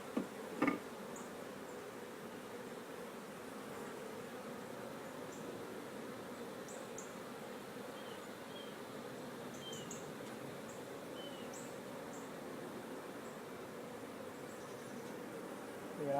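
Honey bees cluster on a hive split with a low, steady, faint buzzing hum that lasts throughout. A few soft knocks come near the start, and faint bird chirps sound in the background.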